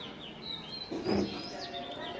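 Domestic pigeons kept in pairs with newly hatched chicks give a brief, low, soft coo near the middle, over faint background noise and a hint of voices.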